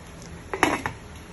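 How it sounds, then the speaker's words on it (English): Palm oil stirred into soup in a cooking pot, heard as a short cluster of three or four scraping clinks of a spoon against the pot, moderately loud and close, with no voices. "Here I'm adding some palm oil. Just give it a stir"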